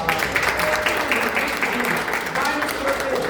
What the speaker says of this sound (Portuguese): Uma salva de palmas para o sol.